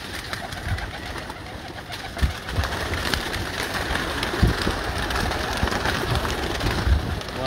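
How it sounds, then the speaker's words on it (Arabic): Prince breed pigeons coo softly in low, intermittent murmurs over a steady hissing background, with occasional faint thumps and rustles. "هذا البرنس حمام"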